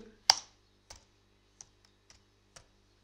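Keys tapped on a computer keyboard: about six separate, crisp clicks spaced unevenly, close and quiet in an otherwise silent room.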